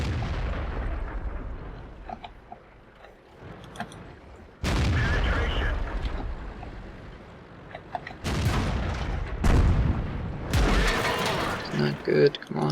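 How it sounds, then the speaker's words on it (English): Artillery shells burst around a tank in the World of Tanks game, landing as several loud, heavy booms at irregular intervals, with dense rumbling stretches between them. Speech runs through the sequence. "All the bloody artillery was aimed at me."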